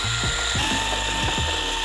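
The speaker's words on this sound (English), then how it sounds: "So I'm going to take off my 2 foot pad screws right here." A ratcheting hand tool backs out foot pad screws on a Onewheel GT board, giving quick close clicking pawl strokes in a fast, uneven rhythm.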